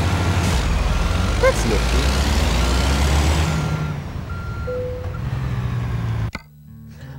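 Truck in American Truck Simulator backing up, with a steady engine rumble and intermittent reversing beeps, then a thump and quieter idling while someone speaks briefly.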